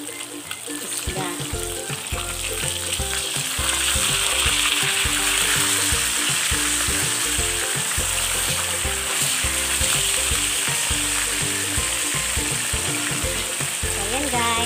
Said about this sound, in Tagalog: matapos pagprito lahat ng tilapia